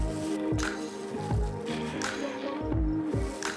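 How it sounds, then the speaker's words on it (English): Ground brisket trimmings being pressed and shaped by hand into thick half-pound burger patties, giving soft wet squishing and slapping sounds at a steady rhythm, close up with no talk. "Let's continue building out these ½ pound burgers."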